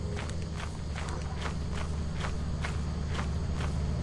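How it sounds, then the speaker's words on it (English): Footsteps in Lethal Company plod along in a steady rhythm of roughly eight heavy, evenly spaced steps over a constant loud rumbling background, with no voices. "Why am I hearing more footsteps?"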